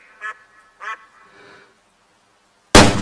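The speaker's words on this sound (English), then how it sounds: "They're ducks." Wild ducks in the hunting game Way of the Hunter give two short, clear quacks a moment apart, followed by a softer muffled call, then silence before a sudden loud burst.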